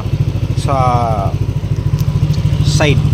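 A Yamaha Aerox scooter engine idles with a steady, low, rapid thrum throughout, loud and close, while someone talks over it.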